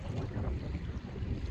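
About 15 mph northeast wind blows across open water while kayaking near Mackay Island NWR, North Carolina: close, continuous buffeting wind noise with a low, rushing roar and a faint wash of waves, no speech.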